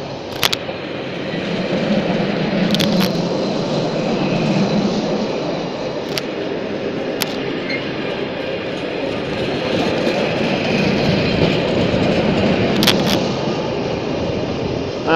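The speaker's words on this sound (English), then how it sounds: "I've got another freight train behind." A freight train rolls through Doncaster station, a loud, continuous rumble and rattle of wagons with occasional sharp clanks and clicks, heard close and alone without talk.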